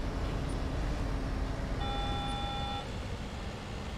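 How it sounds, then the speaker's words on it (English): A bus warning beep in the driving game Bus Simulator 18, sounding once as a steady electronic tone of about a second, over a constant low engine and road rumble. "Why is it beeping at me?"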